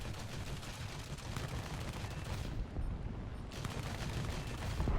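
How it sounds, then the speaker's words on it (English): A tank cannon and weapons firing in War Thunder, a dense continuous barrage of loud gunfire with a brief lull partway through before heavy blasts resume close by. "I've also got a cannon on this that obliterates pretty hard."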